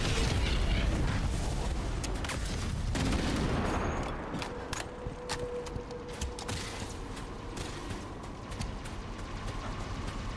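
A grenade blast in the Halo video game, a loud dense burst with rolling rumble and crackle for the first few seconds, then decaying into scattered gunfire-like pops and quieter battle noise.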